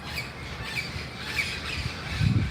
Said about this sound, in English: Just listen to these beautiful bird songs right now.